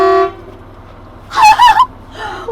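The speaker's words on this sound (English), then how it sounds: "do you think we should honk the horn now?" A semi-truck's air horn gives one short, loud toot, then a voice lets out a brief excited exclamation, and a fainter tone trails off at the end.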